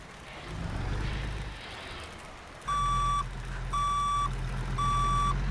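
Truck reversing alarm in American Truck Simulator, three loud evenly spaced electronic beeps over a low diesel engine rumble, close and prominent, following a stretch of engine idle.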